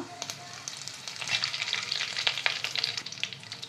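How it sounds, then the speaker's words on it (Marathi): Mustard seeds crackling and spitting in hot oil, a dense run of sharp pops over a sizzling hiss, close and fairly loud, no talking. "मोहरी तडतडतीये"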